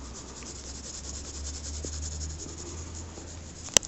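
A pencil shades lightly across paper in steady, soft continuous strokes, a faint dry rub close to the surface with no talking over it.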